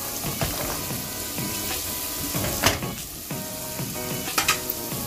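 Pork belly with onion and garlic sautéing in cooking oil, a dense continuous sizzle with stirring scrapes and clatter against the pan.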